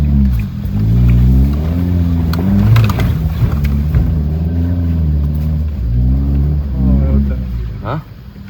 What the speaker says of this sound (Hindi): जिप्सी निकालने की सोच रहा हूँ मैं अब।